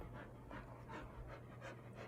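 A dog pants steadily in quick rhythmic breaths, close by and fairly quiet, over a low background hum.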